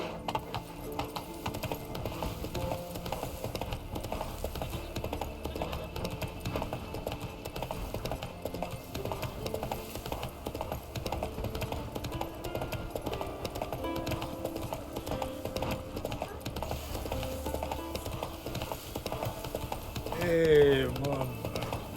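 A horse gallops with rhythmic clip-clop hoofbeats in The Witcher 3, steady and moderately faint under game music and ambience, with a voice speaking briefly near the end.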